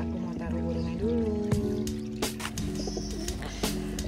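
Newly hatched pigeon chicks and adult pigeons make soft, wavering coos and peeps close by, with a few brief clicks and knocks over a low background hum.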